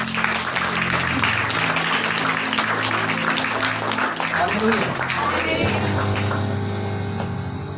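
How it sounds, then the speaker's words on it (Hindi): A church congregation claps together in praise, with dense continuous clapping mixed with voices and musical tones, and the clapping thins out near the end. "तो जोर से हम उस परमेश्वर की महिमा के लिए हम ताली बजाएंगे।"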